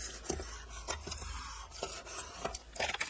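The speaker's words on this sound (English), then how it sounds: "We're going to fold and burnish." Scored paper file folder being folded along its crease and burnished flat, giving soft repeated rubbing and scraping strokes with brief crisp accents, close and fairly quiet, with no talking.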